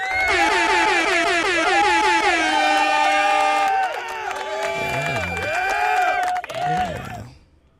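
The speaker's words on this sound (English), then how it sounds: "An air horn." A loud air horn blasts in long sustained honks, joined by crowd cheering and applause at a hockey-style goal celebration, the blare fading out at the end.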